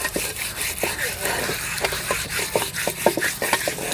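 Muddy flower pots being scrubbed and rinsed, with repeated rubbing and scraping strokes and light knocks close by, irregular in rhythm, over a faint water wash background.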